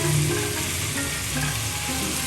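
Dense, steady sizzle of chicken wings frying in hot oil, loud and close, with bubbling crackle throughout and no voices.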